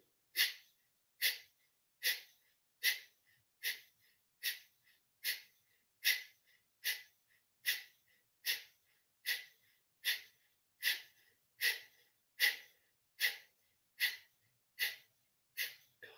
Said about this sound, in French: on refait un cycle de respiration du feu